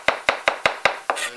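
A knife chops through a mushroom on a cutting board in six sharp, evenly spaced knocks, close and crisp, followed by a brief scrape.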